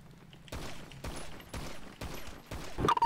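Rapid gunfire in a police roleplay video game, a series of sharp shots spaced roughly half a second apart and growing denser at the end, loud and unaccompanied by talk.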